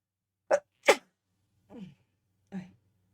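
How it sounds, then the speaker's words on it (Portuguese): Two sharp sneezes in quick succession, close and loud, followed by two softer sniffles or exhales. "Ai, deixa eu espirrar."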